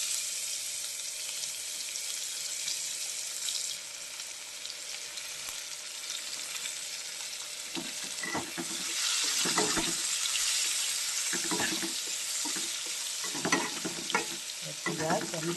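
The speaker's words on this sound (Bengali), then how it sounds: "তেল গরম হয়ে গেছে, এবার তেলের উপর পেঁয়াজটা দিয়ে দেবো" Onions hit hot oil that has just fried fish, starting as a soft, steady sizzle that grows louder and busier halfway through, with intermittent stirring scrapes up close.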